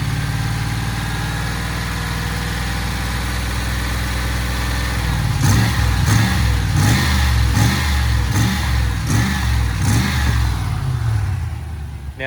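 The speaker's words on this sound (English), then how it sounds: "bleed the system by varying the revs like you saw just there, you heard just there" Range Rover P38 engine idling steadily for several seconds, then revved repeatedly in a quick rhythmic series of blips to bleed the cooling system, close and loud, settling back at the end.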